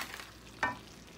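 Green onions drop into a hot pan of crab in aliguê crab paste sauce, giving one sudden sizzling burst that quickly settles into a soft, steady frying hiss, close and alone.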